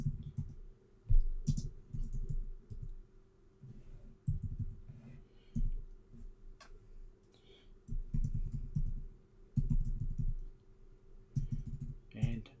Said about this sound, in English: If I type it correctly and spell it correctly